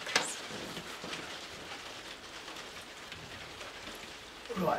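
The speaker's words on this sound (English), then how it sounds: "Ah, the rain's coming down now." Steady rain falls outdoors by a lake, a continuous hiss of drops pattering on surfaces, with a brief louder rustle at the start and end.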